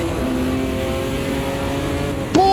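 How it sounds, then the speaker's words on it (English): A raspy V8 race car engine in a sim racing game drones loud and steady, its pitch climbing sharply at the very end. "his V8 engine sounds incredibly raspy"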